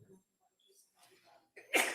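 A single sharp sneeze bursts out in a quiet courtroom during a trial, loud and close after soft shuffling and faint murmurs, ending a brief stretch of near silence.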